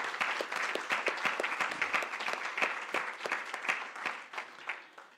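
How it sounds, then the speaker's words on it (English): A conference audience claps in a sustained round of applause, dense overlapping hand claps that stay steady and close throughout before tapering slightly at the end. "Can we just give them a round of applause?"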